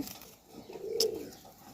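Pigeons in a loft give a single soft, low coo, faint and close by amid quiet background noise.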